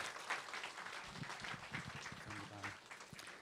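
A church audience at a Christian Bible college session on dating and marriage gives faint, distant applause to welcome the lecturer. Soft voices murmur underneath throughout.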